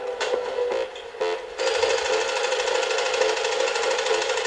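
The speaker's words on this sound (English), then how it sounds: "A rapid cutting scissor chops up the toffee and it's instantly wrapped" A toffee cut and wrap machine in a candy factory, running with a loud, fast, rapid-fire mechanical chatter from its cutting scissor, starting with a few short bursts before settling into a steady continuous buzz.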